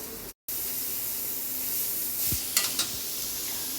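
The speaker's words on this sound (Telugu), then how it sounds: "ఇక్కడ ఒక క్యారెట్ గ్రేట్ చేసి పెట్టుకున్నాను పచ్చిది, అది కూడా వేసేస్తున్నాను." Raw grated carrot hits a hot frying pan, giving a steady, close sizzle and hiss with a few light stirring scrapes near the end.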